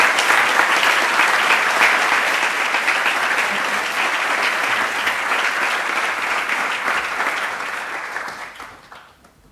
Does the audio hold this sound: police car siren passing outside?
no